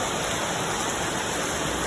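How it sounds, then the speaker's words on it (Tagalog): Heavy rain pours steadily and loudly, a dense unbroken roar of water with no pauses and no voices. "Sobrang lakas ng ulan dito guys."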